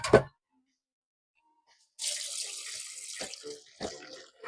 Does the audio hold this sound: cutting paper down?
no